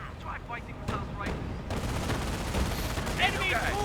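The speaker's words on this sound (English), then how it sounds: "Enemy troops are firing on us!" Enemy gunfire rattles through a Company of Heroes battle in a steady stream of rapid shots and bursts over dense battlefield noise, loud and continuous, with a brief voice cutting in near the end.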